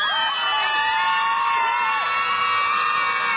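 A crowd of protesters outdoors screams at the sky together after a countdown, producing one loud, sustained mass of wailing, shrieking voices with no break.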